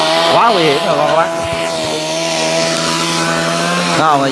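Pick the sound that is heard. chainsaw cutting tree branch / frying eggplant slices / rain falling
chainsaw cutting tree branch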